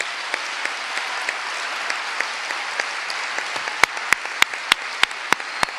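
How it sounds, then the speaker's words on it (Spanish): An audience at an opening event on equality applauds in a steady, dense wash of clapping, with a few sharper individual claps standing out near the end. "gracias, un aplauso para Ginés."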